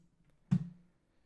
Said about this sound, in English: you're gonna click around all the individual elements